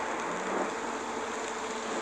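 Dense, loud rainfall in Minecraft: Story Mode pours down in a constant wash of hiss with no pauses and no one speaking.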